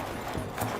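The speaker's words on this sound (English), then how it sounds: "the horses don't gallop but trot" Rhythmic hoofbeats of horses trotting in a race time trial, a quick clip-clop pattern heard at moderate distance.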